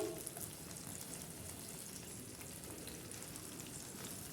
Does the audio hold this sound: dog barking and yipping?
no